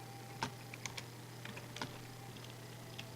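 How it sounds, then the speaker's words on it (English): Computer keyboard keystrokes during a space flight simulation game, a few sparse, faint clicks spaced irregularly over a quiet hum. "My typing."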